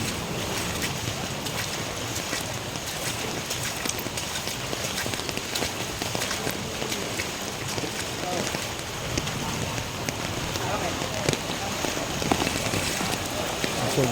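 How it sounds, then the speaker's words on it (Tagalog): Steady, heavy rain pours without a break during severe flooding, a dense wash of noise with occasional splashes and faint voices in the background. "Tuloy-tuloy pang ulan dito mga ka-idol."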